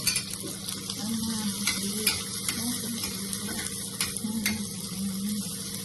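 Hot oil sizzling and frying steadily in a pan for an omelette, a continuous crackling hiss with stirring clinks, close and fairly loud with no talk.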